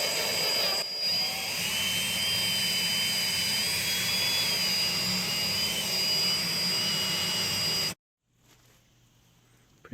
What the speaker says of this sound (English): Drilling the first hole.